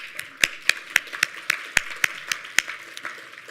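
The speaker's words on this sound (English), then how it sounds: "So we'll give Brown a round of applause" A small conference audience at a closing plenary session gives sparse applause for a sponsor, a few distinct, irregular hand claps ringing out in a quiet hall, fading within a few seconds.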